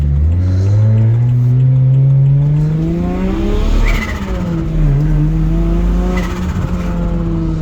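A BMW N54 single-turbo engine revs hard on boost, close and loud, with a strong rising engine note that climbs, dips and climbs again over several seconds, alone without talk.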